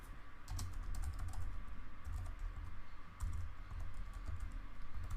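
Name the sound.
typing code on a computer keyboard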